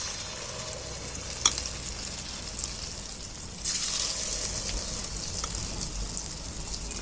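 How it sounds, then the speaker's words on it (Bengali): Egg and onion fritters dropped one at a time into hot oil sizzle and crackle steadily, a close, continuous frying hiss with a few sharper pops and no talking. "এইবার আমি একটা একটা করে তেলের মধ্যে তুলে দিচ্ছি।"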